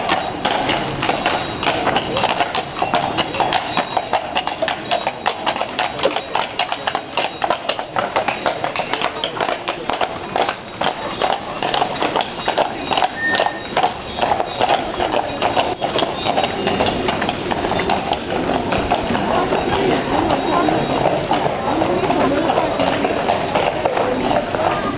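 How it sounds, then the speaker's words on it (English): Horses pulling a carriage through a city street clip-clop steadily on the pavement in a brisk, continuous rhythm, close and clear over light street ambience in wet, melting-snow weather. "You can take a trip with that carriage and horses around the city"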